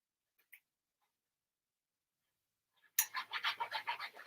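A cat crunches dry food indoors in a quiet home craft room, a rapid series of close, crisp crunches starting abruptly after near silence with a couple of faint ticks.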